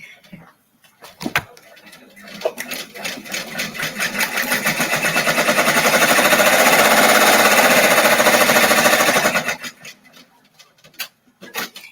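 A machine-embroidery sewing machine runs steadily, stitching swirl and snow-flurry stippling into a quilted tree skirt. Its fast, even mechanical hammering swells in, holds loud for several seconds, then stops, with a little talk before and after.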